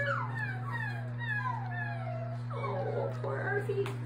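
A voice imitates a sad dog whimpering with a run of rising and falling whines and whimpers, held fairly steady and close over a constant low hum.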